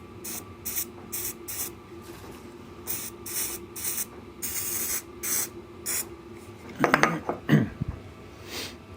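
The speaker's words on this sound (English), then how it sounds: "little squirt of activator" Glue activator squirted from a spray can, several short hissing bursts near the mic, followed by a couple of brief mechanical rattles toward the end.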